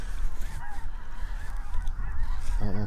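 Snow geese honk in a loose, overlapping chorus from a flock out over open ground, fairly distant, with one louder, nearer call rising at the end.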